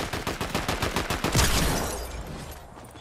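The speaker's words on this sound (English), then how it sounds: "Yeah, I use the pump. Probably the worst shotgun this season" Rapid, loud gunfire from a pump shotgun in the Fortnite video game, a dense burst of repeated shots in quick succession before fading into a decaying echo, with no talking.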